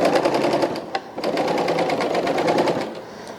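A 4-thread serger stitches along cut fabric edges with a fast, steady mechanical whir, pausing briefly once before running on at an even pace.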